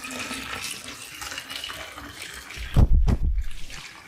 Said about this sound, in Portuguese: colocar a água quente dentro da nossa garrafa